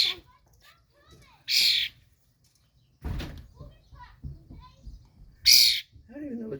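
A wild bird gives loud, harsh bursts of calls, three separate shrill squawks spread apart and heard close by, with people talking and a thump in between.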